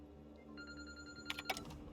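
A telephone rings in The Outer Worlds on PC, a short electronic ring of a few bursts over a steady low game hum, fairly faint and with no talking.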